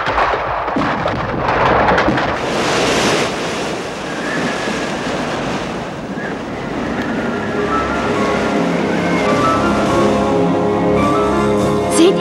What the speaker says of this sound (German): Es ist eigentlich vollkommen unnötig, extra dafür einen Sturm zu entfesseln.